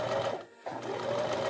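Sewing machine stitching in a steady, close mechanical whir, with a brief dip in the middle before it resumes.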